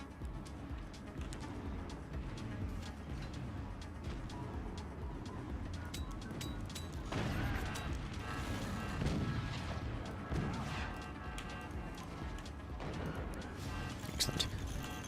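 Cannons in the Forts RTS game fire repeatedly among dense game sound effects, with several booming blasts and explosions mixed with a busy, continuous rumble while someone talks over the action.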